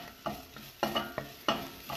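Ground coriander seeds stirred in a pan over moderate heat, giving about five separate scraping strokes spaced through two seconds over a faint low sizzle, with no voices.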